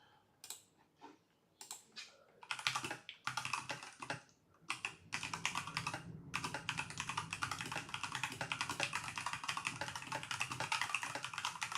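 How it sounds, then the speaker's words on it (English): Rapid typing on a computer keyboard, close and fairly loud, in short bursts with pauses at first and then a steady continuous clatter of keystrokes, with no talking. "I'm typing like that."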